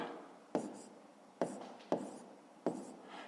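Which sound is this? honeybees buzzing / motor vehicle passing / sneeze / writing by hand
writing by hand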